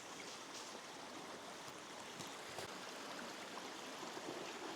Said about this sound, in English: Lovely stream.